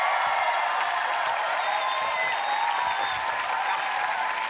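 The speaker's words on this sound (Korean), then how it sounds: "이렇게 고생하면은 박수도 쳐주고 칭찬도 좀 해주고 그래야지." Steady studio audience applause on a KBS comedy show, a dense, even wash of many hands clapping throughout with no pauses and no talk over it.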